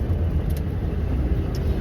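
A remapped Ford Transit Mk7 van engine hums steadily from inside the cab while driving, a constant low rumble with no talk.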